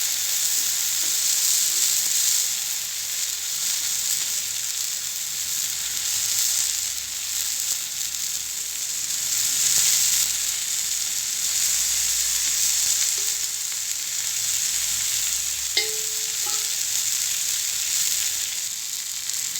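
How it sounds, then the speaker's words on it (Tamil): Vanjaram fish fries in oil in a pan with a loud, continuous sizzle and hiss that holds steady throughout, with a few faint clinks near the end. "பாருங்கள், நல்லா சூப்பராக ஃப்ரை ஆகிருக்குங்க."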